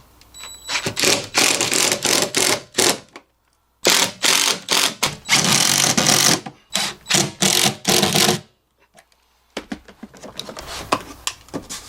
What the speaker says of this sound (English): And then we'll insert a Riv Nut into each hole.